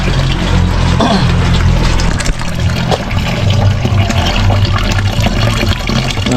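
Water gushes and churns loudly as a pump fills a drum, a constant rushing flow with a low rumbling hum beneath and a few brief knocks and splashes.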